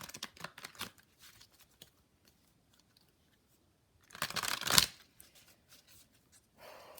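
Oracle cards shuffled during a tarot-style reading: short papery riffling bursts near the start, a louder flurry of card shuffling mid-clip, then quiet shuffling toward the end, with no talking.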